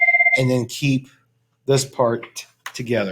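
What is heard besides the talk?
telephone ringing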